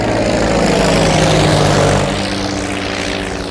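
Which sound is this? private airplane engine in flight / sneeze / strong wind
private airplane engine in flight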